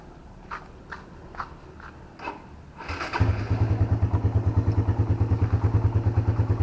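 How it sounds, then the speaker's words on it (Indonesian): A Suzuki Satria FU motorcycle starts up after a few light clicks and knocks, then settles into a loud, close idle with an even, rapid put-put rhythm. "Kita nyalakan mesinnya dulu."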